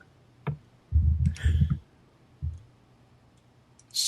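Several sharp mouse clicks land as someone opens a link, a few single taps and a short burst of rapid clicking, close and fairly loud against a quiet room.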